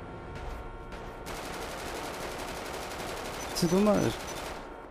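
A gun fires repeatedly in GTA RP, as rapid bursts of shots under quiet background noise, followed by a short spoken line.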